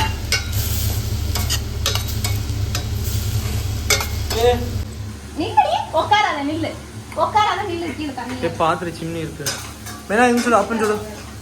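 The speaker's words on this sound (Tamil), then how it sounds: "இப்போ இது லைட்டாக குக் ஆகும்போது நான் இந்த மசாலா எல்லாமே போட்டுறேன்" Masala spices sizzle in a pan for baby corn soup, a steady close fry with stirring and utensil clinks, while someone talks over the cooking for much of the stretch.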